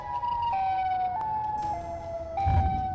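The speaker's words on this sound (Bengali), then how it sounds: "আর সেই সময় রেড সাইরেন হেড সিটির ভিতরে এসে অনেক জোরে সাউন্ড করছিল।" Red Siren Head monster in a video game blaring a loud wailing siren, a steady tone stepping down in pitch in short stages over a few seconds, with a low thump near the end.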